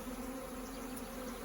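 Honeybees buzzing inside an open hive while a package of bees is installed, a close, steady drone with no voices.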